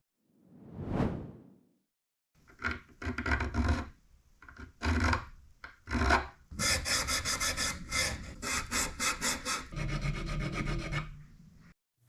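Small walnut wood pieces are sanded by hand after a soft whoosh, with short rasping strokes in quick bursts that become a faster, steady scratching run close up.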